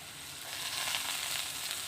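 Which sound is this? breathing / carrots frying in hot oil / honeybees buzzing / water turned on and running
carrots frying in hot oil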